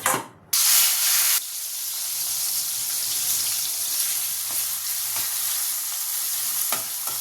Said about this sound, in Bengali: আমি মাছগুলো ভাজতে দিয়েছি, আমি তেলটা গরম করতে দিয়েছিলাম, মাছগুলো আমি ভাজতে দিয়েছি।